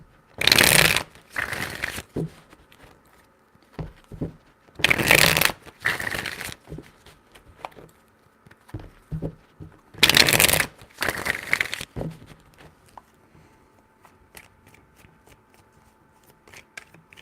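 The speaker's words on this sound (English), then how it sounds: "Three shuffles." Tarot cards are shuffled up close in three loud riffling bursts, each made of two quick rips, with soft card handling and faint clicks in the quiet gaps between them.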